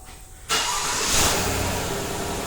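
A 2014-or-later Chevrolet or GMC truck engine turns over by remote start and catches after a brief quiet moment, then settles into a steady, close idle hum.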